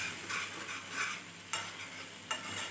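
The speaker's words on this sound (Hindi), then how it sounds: "और इस तरह से इसको मिक्स कर लेंगे, इसको हम थोड़ी देर अब पकाएंगे।" Garlic and red chili chutney, a wet Marwari-style paste, stirred and cooked in a pan, with a steady soft sizzle under rhythmic scraping strokes and two sharper spoon knocks against the pan.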